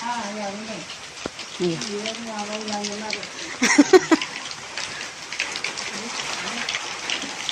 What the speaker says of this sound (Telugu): ఇక వర్షం అయితే చూడండి పడుతుంది వర్షం